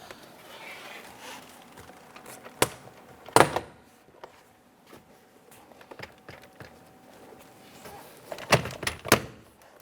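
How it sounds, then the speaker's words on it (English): Sharp plastic snaps and clicks in bursts as plastic pins are pried from a 2015-2020 Cadillac Escalade rear door panel, a couple near the start and a cluster toward the end, with quiet rustling handling noise between. "we're dislodging the plastic pins securing the door panel"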